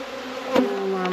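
Bees buzz steadily inside a hive during a February cleaning of moldy bees, a close, continuous hum with a brief louder swell partway through.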